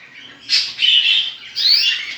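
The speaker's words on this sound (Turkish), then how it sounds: "Burada gördüğünüz gibi kendi kuşlarımız var hep." Pet budgerigars chirp and twitter in a home aviary, bright overlapping calls in two or three bursts lasting most of two seconds, close and clear, with no talking.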